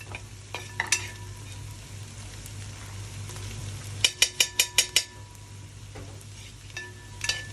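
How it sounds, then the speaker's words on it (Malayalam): Curry leaves, crushed ginger and garlic, and shallots fry in coconut oil, a steady sizzle broken by a quick run of sharp metallic stirring clinks near the middle and a few more scrapes at the edges. "കറിവേപ്പില ഇഞ്ചി വെളുത്തുള്ളി ചതച്ചത് ചെറിയ ഉള്ളി വെളിച്ചെണ്ണയിലാണ് ഉണ്ടാക്കുന്നത്"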